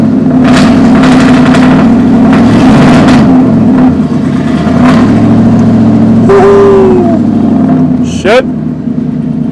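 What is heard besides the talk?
truck engine revving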